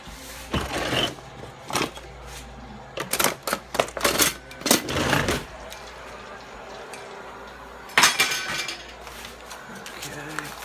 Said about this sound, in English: the fries are ready to flip